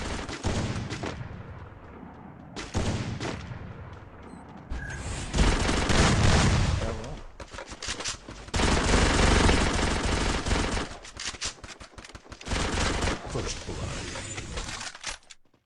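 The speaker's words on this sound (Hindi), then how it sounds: "टीएसजी लेजेंड का लाजवाब हेडशॉट, काफी ज्यादा डैमेज हो गए" Rapid gunfire bursts from a mobile shooter game match in a 2 versus 2 esports round, with loud volleys separated by short gaps and continuous firing through the middle stretch.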